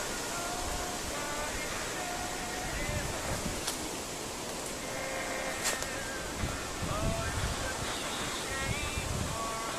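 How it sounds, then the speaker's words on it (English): At an overnight campsite, wind rushes and buffets steadily against the microphone, a broad roaring hiss that swells slightly in gusts throughout. "The wind's fairly gusting through here."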